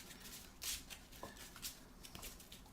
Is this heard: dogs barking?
no